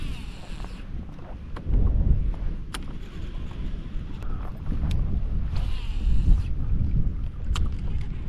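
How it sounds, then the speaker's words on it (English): Strong 25 mph wind gusts buffeting a microphone on a boat while fishing for redfish on open water, a low rumbling roar that swells and eases in surges, with faint lapping and knocking sounds mixed in. "we have like 25 mile per hour wind gusts."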